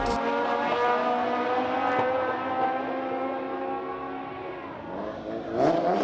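A front-wheel-drive drag race car at a FWD Drag Series finale drones with a loud, sustained engine note that holds steady for several seconds before surging near the end.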